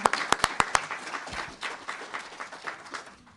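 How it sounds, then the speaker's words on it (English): A brief burst of audience applause from a voter ID forum crowd, starting with a few sharp, distinct claps and spreading into softer, scattered clapping that fades out over a few seconds. "How about a round of applause?"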